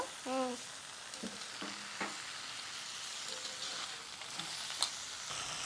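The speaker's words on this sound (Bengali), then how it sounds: "আলু দিয়েও কাঁকড়া কষিয়ে নেব" Crab being stir-fried with spices and kasuri methi in a pan for a tomato-potato curry, a steady close sizzle with scraping stirring strokes and a few sharp clinks.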